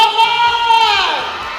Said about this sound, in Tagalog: Pwede bang marinig ang napakalakas sa sigawan at palakpakan?